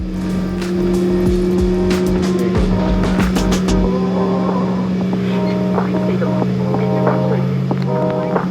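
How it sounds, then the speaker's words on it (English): Jet engines spool up and run steadily aboard a JSX semi-private jet bound for Las Vegas, a loud continuous drone with a steady tonal whine and scattered cabin clatter on top. "After the engines fired up"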